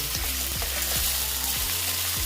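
Potatoes, onions and eggplant fry in a pan for a Bengali fish curry with small bata fish, giving a steady close sizzle with a few scraping stirs at a regular pace and no voices.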